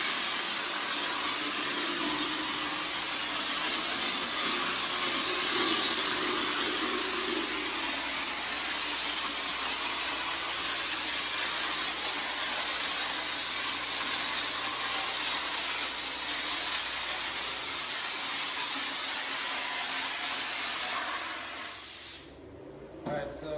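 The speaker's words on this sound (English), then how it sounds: "spray the inside, and then I'll step back and spray the outside." A texture sprayer coats interior walls with light orange peel texture, a continuous close hiss of spray that runs steadily before cutting off near the end, with a voice faintly present.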